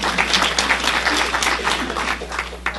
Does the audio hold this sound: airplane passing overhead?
no